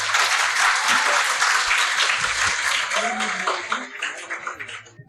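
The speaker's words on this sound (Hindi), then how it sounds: "तालियां जिस तरफ ज़्यादा आएंगी मैं उसी तरफ जाऊंगा। तालियां बजा दें।" A studio audience at a Ramzan iftar TV show claps loudly and continuously, the applause thinning and tapering off toward the end.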